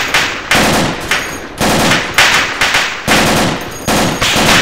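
Dense automatic gunfire in the military shooter ArmA II, loud bursts of rifle and machine-gun fire repeating in rapid volleys with brief gaps, shots seeming to land close by.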